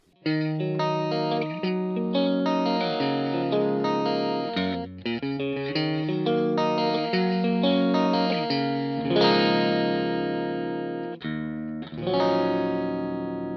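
A clean electric guitar plays chords and melodic lines through an amp-less pedalboard, steady and sustained with a slight shimmer, no voices.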